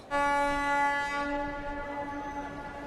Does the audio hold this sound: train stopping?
yes